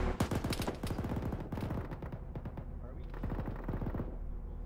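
Machine gun fire crackles in rapid bursts inside a military video game, loud and close, with a distant voice briefly audible between volleys.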